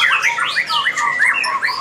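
A white-rumped shama sings loud, rapid, varied phrases up close at a bird market, a continuous stream of bright whistles and chirps.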